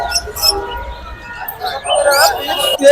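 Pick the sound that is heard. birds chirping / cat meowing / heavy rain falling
birds chirping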